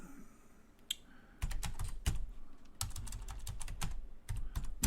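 Keys clack on a computer keyboard while editing in the vi editor, with scattered sharp taps and a few firmer presses, close and clear, with no talking.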